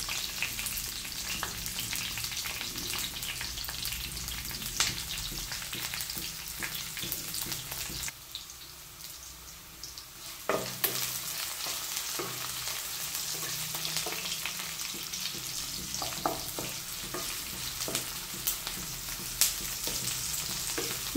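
Curry leaves and chopped onion frying in hot oil for a fish curry, making a loud, dense sizzle with steady stirring clatter that drops away briefly midway before resuming with sharp scrapes and pops, with no voices.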